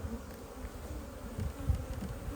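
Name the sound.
honey bees buzzing in an open hive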